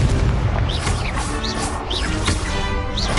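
Blasting spell explosions from the Hogwarts Legacy video game, with loud booming crashes and bright whooshing bursts repeating over a dense, continuous rumble.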